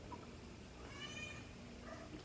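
A cat gives a couple of soft, faint meows in a quiet room, short drawn-out cries spaced apart with a little low background noise between them.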